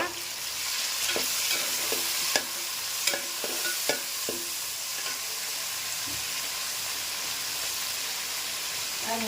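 Chopped tomatoes fry with onions, garlic, cinnamon, chilli and curry leaves, a steady broadband sizzle throughout with a few sharp spoon scrapes and clicks early on, close and moderately loud with no talk.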